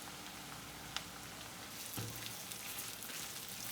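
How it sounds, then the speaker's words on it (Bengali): Chopped onions frying in hot oil over a high flame for a shüntki fritter dish, a steady soft crackling sizzle with a faint clack near one second and a slight swell around two seconds. "পেঁয়াজটা আমি এখানে হাই ফ্লেমেই ভাজছি মোটামুটি।"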